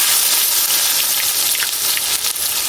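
Onion and garlic paste frying in a hot pan, a loud, steady, close sizzle with a bright hissing spray that holds evenly throughout, no voices.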